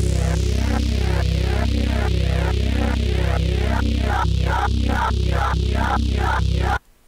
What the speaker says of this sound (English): I just added an LFO on the band reject filter boost, and it sounds like this